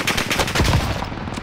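Close, dense bursts of rapid automatic gunfire from the video game Call of Duty: Modern Warfare fill the short moment without a break.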